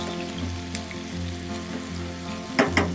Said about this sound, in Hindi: इसको थोड़ा सा फ्राई कर लेंगे प्याज के साथ, ताकि इसका कच्चापन जो है